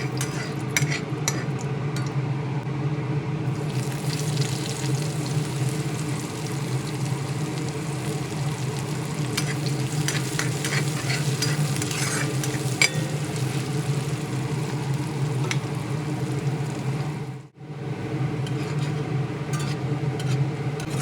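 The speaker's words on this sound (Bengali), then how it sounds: "ফোড়নের সঙ্গে পেঁয়াজ কুচি ভালোভাবে নেড়ে চেড়ে ভেজে হালকা সোনালি কালার করে নিয়ে" Chopped onions frying in oil with a cumin and whole dried red chili tempering, a dense continuous sizzle running steadily with scattered stirring scrapes and one brief dropout near the end.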